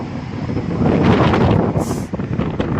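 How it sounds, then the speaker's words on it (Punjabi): Strong wind buffets the microphone outdoors with a steady, roaring rush that swells and dips, with no voices. "ਦੇਖੋ ਕਿੰਨੀ ਹਵਾ ਚੱਲਦੀ ਆ ਸਵੇਰ ਦੀ"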